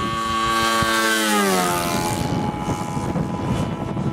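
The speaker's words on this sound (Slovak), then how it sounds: "A teraz počúvajte zvuk štvortaktu." A four-stroke engine on a model F4U Corsair aircraft roars close by, its pitch sliding down as it settles into a steady throaty drone.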